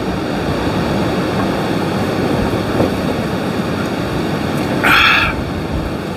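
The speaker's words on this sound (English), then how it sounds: "So you hear that wind, don't you?" Wind blows steadily outdoors near an open fire on a night before a Cowboys football game, a loud broadband rush that holds constant throughout, with a brief higher-pitched hiss near the end.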